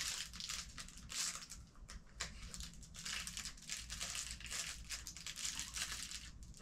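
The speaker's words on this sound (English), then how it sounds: "I'm trying to cut the top of this gel paper" Gel paper packaging crinkling and crumpling close by as it is handled and cut with scissors, a steady rustle with sharper snips and crackles.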